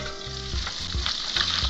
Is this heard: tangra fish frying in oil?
yes